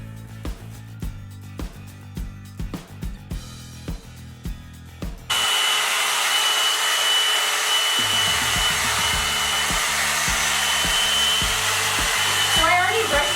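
A Revlon One Step hair dryer and volumizer switches on partway through and blows a loud, steady whooshing roar while brushing through hair, with background music playing before and beneath it.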